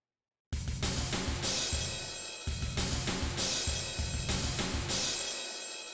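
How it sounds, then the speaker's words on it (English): A looping drum beat made in FL Studio with punchy kicks and sharp snare hits, the middle snare standing out, repeating in a steady groove, loud and dry, with no voices. "we do want this middle snare right here to really stand out"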